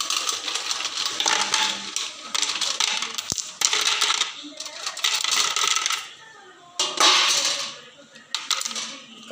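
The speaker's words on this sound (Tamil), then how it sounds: "அதுக்கான ஐஸ் குப்பி" Ice cubes drop and clatter into a container for an apple juice drink, making bright rattling clinks in quick bursts close by with short gaps between them, and no voices.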